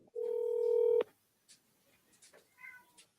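A single steady phone tone lasting about a second rings out loud and alone as a call is placed to a property seller, followed by faint scattered noises on the line.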